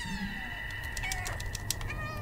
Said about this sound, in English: All I can do is make cats sad cat sounds.